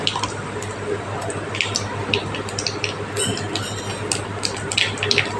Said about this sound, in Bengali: তেলের মধ্যে আমি কালো জিরে ফোড়ন দিয়ে দিলাম।